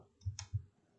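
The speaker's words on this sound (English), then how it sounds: "We'll go ahead and click here." A computer mouse clicks a few times while working in design software, making short, quiet, close clicks and soft taps in an otherwise silent moment.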